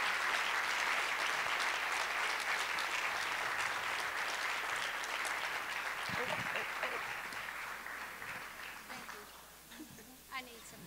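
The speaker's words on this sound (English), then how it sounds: "Let's give them a warm round of applause." An indoor audience applauds after a keynote conversation, loud dense clapping that holds steady and then thins and fades out, with scattered voices and a few last claps at the end.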